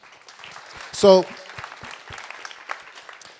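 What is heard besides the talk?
applause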